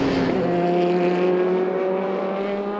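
Audi R18 e-tron Quattro prototype race car at the 6 Hours of Bahrain: a loud, smooth engine whine with pitch rising then gradually falling as it passes, near and alone.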